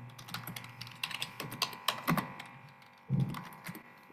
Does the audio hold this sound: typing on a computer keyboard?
yes